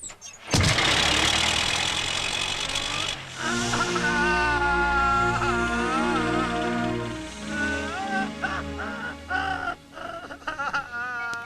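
A vehicle engine cranks and fires up with a loud burst, then settles into a steady, low idle. Overlapping music and sound effects play above it.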